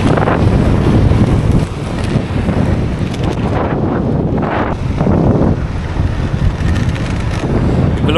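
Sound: strong wind blowing

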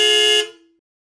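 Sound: car horn honking

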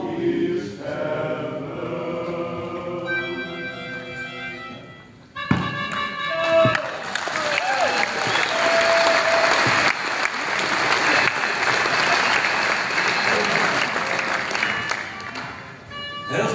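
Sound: audience applause after protest song

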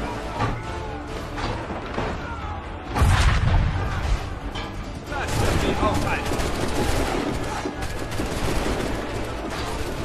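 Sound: gunfire in Assassin's Creed 3 video game battle

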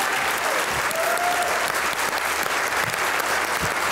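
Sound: audience applause welcoming a poet on stage

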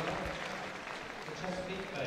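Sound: crowd cheering and applauding at Crufts dog show

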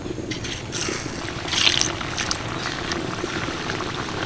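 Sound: sooji palm pitha frying in hot oil

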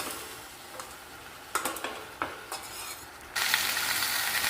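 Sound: stirring brinjal fry with fenugreek in a pan

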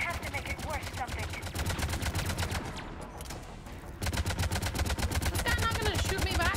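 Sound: gunfire in the video game Mass Effect 3

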